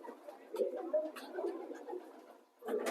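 Pigeons cooing in a fancier's loft, soft repeated coos and murmurs close by, with quieter rustling between bursts and a louder cluster of calls near the end.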